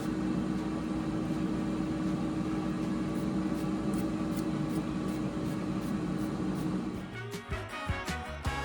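An air fryer running with oyster mushrooms inside, a steady fan whir and hum holding even for several seconds, then choppy rattling and clicks near the end, close and without talk.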